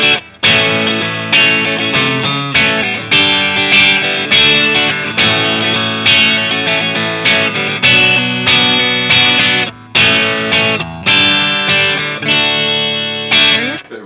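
A Michael Kelly 1967 electric guitar is played dry without reverb, with bright strummed chords and ringing notes in short phrases, each attack decaying before the next, close and fairly loud with no voices.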